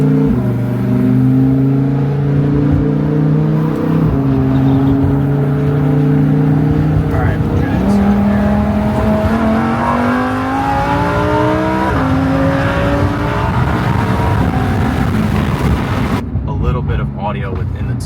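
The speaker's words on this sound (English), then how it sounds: "What do you think about the stock exhaust? I mean the Rift exhaust. Sounds great." Supercar fitted with an aftermarket Rift exhaust, heard loud and close as the engine drones and climbs through rising revs, then cuts off sharply near the end, with some talk underneath.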